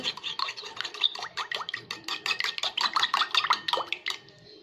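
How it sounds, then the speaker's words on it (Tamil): A sweet honey mixture is briskly stirred in a bowl, producing quick repeated scraping and clinking strokes of a utensil against the sides in a steady close rhythm; no one speaks. "நல்லா மிக்ஸ் பண்ணிக்கோங்க."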